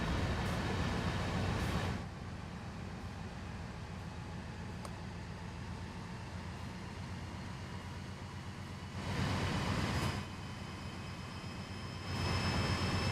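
A train locomotive engine in the Train Sim World 5 video game gives a quiet, steady jet-like drone, with swells in loudness at the start, in the middle and again near the end.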